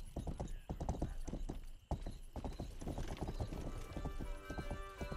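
Rapid hoofbeats of a horse in the video game Rustler clatter loudly and continuously, with a brief pause near two seconds, and a whinny rises toward the end.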